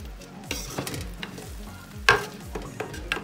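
Bihon noodles seasoned with soy sauce are stirred in a hot pan, with repeated close scraping strokes over a steady sizzle and a sharper clatter partway through.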